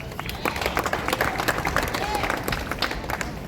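Audience at a Wild Bill Hickok show in Deadwood, South Dakota, clapping in a steady, dense patter that continues for several seconds, with crowd murmur underneath.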